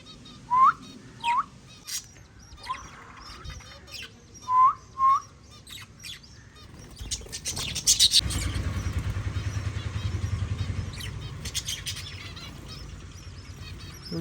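Birds give short, bright chirps and tweets, repeated in a loose rhythm, and then a rumbling motor noise rises and buries them.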